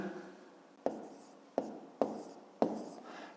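Numbers being written by hand during a fifth-grade arithmetic exercise, heard as four sharp, close pen or chalk strokes spaced about half a second apart, each fading quickly into a quiet background.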